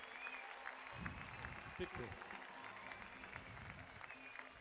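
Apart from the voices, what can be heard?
concert audience applause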